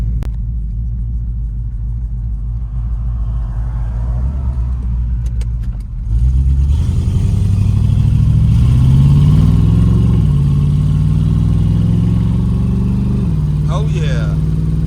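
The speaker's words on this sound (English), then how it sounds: "I'm about to jump in the Vette, head down the road." A Corvette engine rumbles at idle, then revs up and settles into a loud, steady low drone as the car pulls away and cruises down the road.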